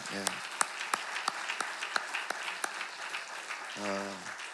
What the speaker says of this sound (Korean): 우리 오늘 이 드림 팀들에게 우리 격려의 박수 한번 보내겠습니다